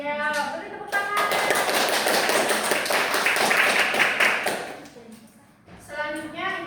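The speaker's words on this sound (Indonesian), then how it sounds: "Ya, beri tepuk tangan." A class of pupils in a classroom bursts into a dense round of hand clapping lasting several seconds, fairly loud and close, with a brief voice heard before and after.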